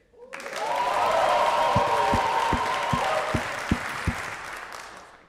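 An audience in a church sanctuary claps together at a community gathering. The applause swells quickly and holds as a dense, even roar, with a string of low thumps near the end as it fades away.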